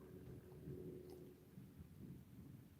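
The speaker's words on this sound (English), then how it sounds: "Still hearing the thunder." Distant thunder rolling in the mountains during a summer evening storm, a faint low rumble that swells and fades over a few seconds with no voices.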